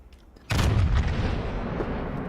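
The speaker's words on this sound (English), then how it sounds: "Okay, you're firing at the Yugumo." Naval artillery fires in the World of Warships game: a sudden heavy boom lands after a quiet moment and then rolls into a long, loud, rumbling decay without any talk.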